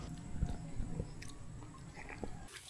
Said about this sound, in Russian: тут я впервые попробовал на вкус плоды спелого какао прямо с дерева